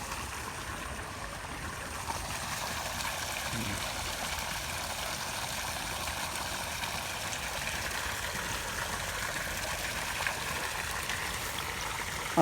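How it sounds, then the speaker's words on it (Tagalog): Water pours steadily into a tilapia fingerling tank with no screen on the outlet, a continuous hissing splash that stays even and close throughout, with no voices. "Pansin nyo yung bagsakan ko ng tubig na yan, walang kulambo o screen, nasa kabila yan."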